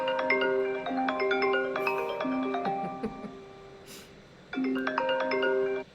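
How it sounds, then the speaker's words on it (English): Phone alarm ringtone: bright, bell-like melodic tones in a repeating pattern, playing alone and clearly, with a short pause before the phrase starts again. "This is my alarm, right, for when I get up."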